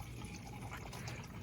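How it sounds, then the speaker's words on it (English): Coconut water poured into a container while making a homemade sports drink, a steady liquid trickle heard alone and close throughout. "add some coconut water"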